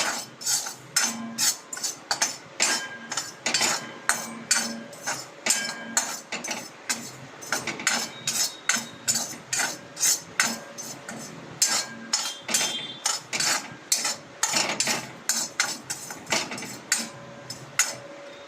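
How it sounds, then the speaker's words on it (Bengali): Poppy seeds are stirred and dry-roasted in a pan, giving repeated metallic clinks and scrapes of a spoon against the pan in a steady, uneven rhythm, close and clear with no talking. "আগে আমি পোস্তটা একটু নাড়াচাড়া করে ভেজে নেব।"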